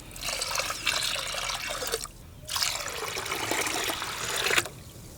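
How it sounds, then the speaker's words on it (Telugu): Water is poured from a glass into a pot of barley in two long streams separated by a short pause, making a close, splashy trickle with no talking. "గ్లాసున్నర బార్లీకి మూడు గ్లాసులు నీళ్లు పోసుకుంటున్నాను"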